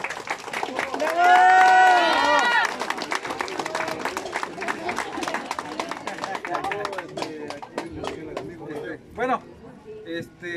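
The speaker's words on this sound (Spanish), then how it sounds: "El aplauso para ellos porque se lleve cada año la carrera." A crowd at a cycling tourism event in Santa María Nativitas Coixtlahuaca, Oaxaca, applauds the riders with sharp, continuous clapping, while someone speaks over it and voices call out.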